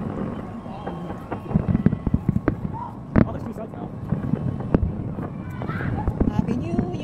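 New Year fireworks crackling and popping at a celebration, with scattered sharp bangs and a louder burst among steady outdoor noise and wind, while people talk nearby.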